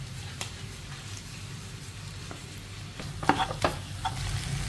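Squid stir-frying with salted duck eggs in a pan, a steady soft sizzle with occasional louder scrapes and clinks of a utensil stirring near the end, no talking.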